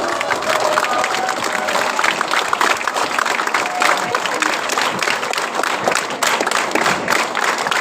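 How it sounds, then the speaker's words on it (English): A school audience at a high school debate competition gives a standing round of applause, dense sustained clapping with some cheering throughout, loud and close. "I also would request the audience to give a standing round of applause to our organizers"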